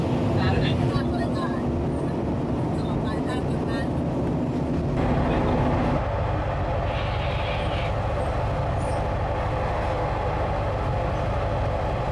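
Sleeper train SP46 from Padang Besar, Malaysia to Bangkok, Thailand, rumbling steadily over crisscrossing rail tracks, a continuous loud roar with a shift in tone partway through.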